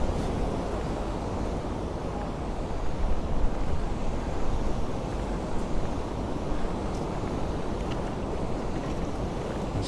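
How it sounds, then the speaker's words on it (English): Ocean waves breaking on the shore at Cala Ratjada, Mallorca, a continuous dense roar of surf mixed with wind buffeting, loud and steady for about ten seconds, with no talking. "There's just so much energy in the waves here."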